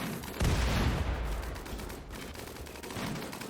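Mortar fire during a base raid in the video game RimWorld, a sustained barrage of booming blasts that starts abruptly and rolls on continuously and loudly with no pauses, heard alone without talk.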